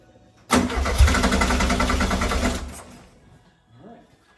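A car engine fitted with a new Weber 44IDF carburetor cranks and fires up, running loud and steady for about two seconds before cutting out; a brief low voice follows.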